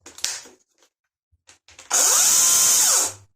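An EGO 16-inch cordless chainsaw revs up for a quick test after a few faint clicks and handling sounds, then runs with a loud, steady high whine for about a second before winding down.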